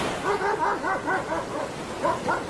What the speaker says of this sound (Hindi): पर कुत्तों की आवाज जरूर आ रही थी।